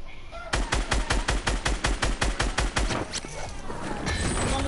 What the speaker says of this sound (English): Y'all spamming rockets